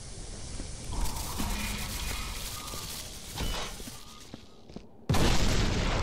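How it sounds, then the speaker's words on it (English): Liquid nitrogen containers bursting in a snowy winter base in Viscera Cleanup Detail, with a rumbling boom and hiss, then a sudden loud blast near the end. "have I ruined the level by blowing up liquid nitrogen containers?"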